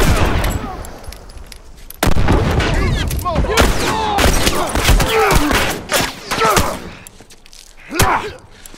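Automatic turret fire in The Last of Us Remastered: dense bursts of rapid gunshots and impacts hammer for several seconds, loud and close, with a voice talking over the shooting.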